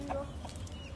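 Chickens clucking near a large temple, short scattered clucks over steady background noise, no talk in the clip.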